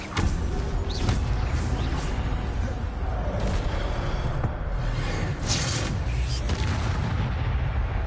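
In the video game Hogwarts Legacy, an Incendio fire spell is cast, producing deep, rumbling booms and bursts of fiery blast over a continuous low roar, loud and layered with other game effects.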